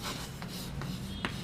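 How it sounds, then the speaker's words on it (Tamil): Writing a sentence on a board makes a steady, close scratching and rubbing sound with a few short strokes and taps, heard over a constant low background hum. "இப்போ பாருங்களேன், நான் ஒரு சென்டென்ஸ் எழுதுகிறேன்."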